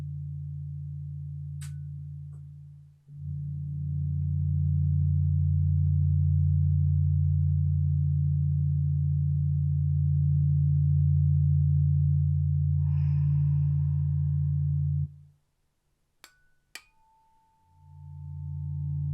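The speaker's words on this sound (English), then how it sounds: "I'll leave you with this Fibonacci sequence tones." Low sustained layered tones from a Fibonacci sequence, a deep steady drone holding for about twelve seconds after a brief break, then cutting off before faint clicks and a returning hum.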